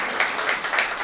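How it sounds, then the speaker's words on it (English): A short burst of clapping from a small crowd, brisk and close, with no voices. "Big round of applause for Molly Gallimore, my executive producer."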